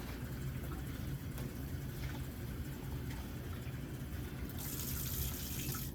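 Tap water runs steadily into a basin being rinsed during catheter care, a continuous broadband splashing wash held at even loudness throughout, with a brighter hiss near the end and no speech.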